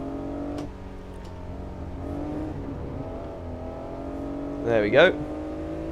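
A Honda NSX engine in Assetto Corsa at Imola hums steadily, then climbs in pitch and snaps into a sharp, loud rev burst near the end, with someone speaking briefly over it.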